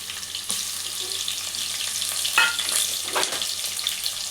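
Ginger-garlic paste frying in a pan gives a continuous hiss, with a few louder scrapes of a spoon and sputters rising through it and no voices.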